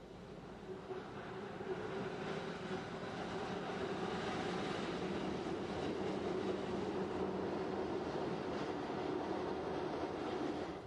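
Swiss rack railway train descending steep gradients toward St. Gallen, a steady rumbling roll with faint rhythmic clicking and mechanical whine, heard from onboard and building slightly at the start.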